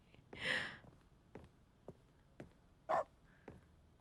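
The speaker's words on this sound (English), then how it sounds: "Oh yeah, we still can bark." A dog barks in The Stanley Parable: Ultra Deluxe, a few faint sharp barks and yips spaced irregularly against a quiet background.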